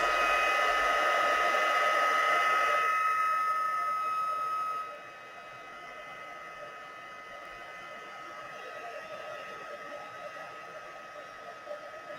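A hair dryer blows loud and close over watercolour paint for a few seconds, then switches off, leaving quiet room noise and faint movement.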